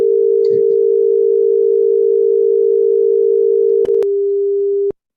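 A steady electronic tone at about 455 Hz, like a phone dial tone, holds loud and unbroken for several seconds, interrupted by a couple of faint clicks before cutting off abruptly.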